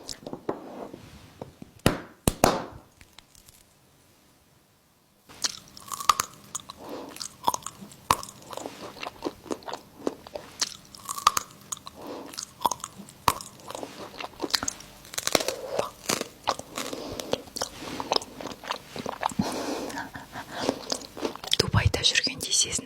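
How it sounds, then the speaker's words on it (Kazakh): Crunchy homemade chocolate is bitten and chewed up close, with sharp crisp cracks followed by steady crunching in an irregular rhythm, and quiet whispered speech in between. "Қытырлақ шоколад."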